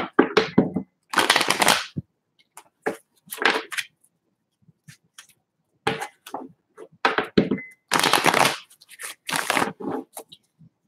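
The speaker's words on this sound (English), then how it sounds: "two more shuffles" Bursts of tarot cards being shuffled, crisp riffling flurries repeated several times with brief pauses between, close and fairly loud.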